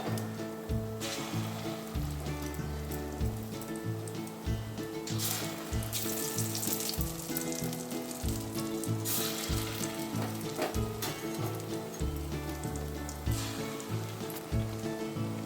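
Gondho patali leaf fritters sizzle steadily in hot oil, a loud crackling fry with rhythmic low thumps of stirring or handling repeating throughout.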